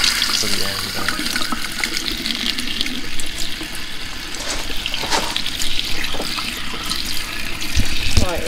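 Water runs steadily from a tap while a campervan shower is being filled, a continuous hiss and splash that lasts the whole stretch, with voices talking over it now and then.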